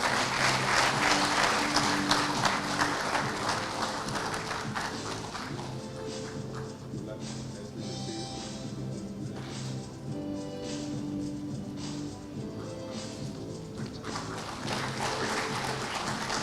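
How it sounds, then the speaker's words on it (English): Sustained applause from young bankers at a bank's convocation ceremony, continuous and somewhat distant, swelling at the start and end, with steady background music humming beneath. "Keep clapping, young bankers."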